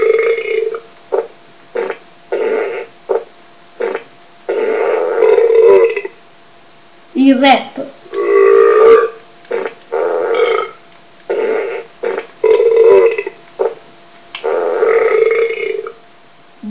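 A burp sound sits inside the theme music of the video game Crash Tag Team Racing. Loud, choppy, rhythmic bursts of music repeat over the whole stretch, and a brief vocal fragment appears among them.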